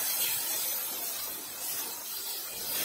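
Ginger garlic paste frying in a pan while cooking prawn malai curry gives a steady, even sizzle and hiss with no breaks, fairly soft and close.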